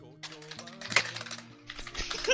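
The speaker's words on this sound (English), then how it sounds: "Furious typing." Rapid, furious keyboard typing in bursts of clattering keystrokes, moderately close, mixed with a voice and background game music.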